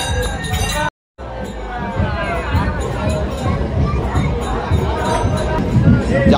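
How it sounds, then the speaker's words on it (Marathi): A dense crowd at a Ganpati visarjan immersion procession fills the air with a constant hubbub of voices, clinking and scattered shouts, with a brief dropout near the start. "जाम गर्दी आहे, जाम गर्दी आहे."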